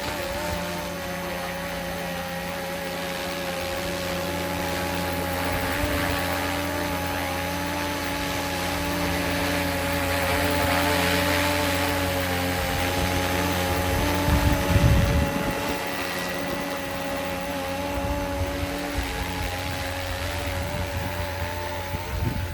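A RotorScale UH-1 Huey RC helicopter with an orange tail hovers and flies, its steady whining rotor and motor drone holding for the whole stretch, swelling and fading as it moves, with a brief rumble near the ground toward the end.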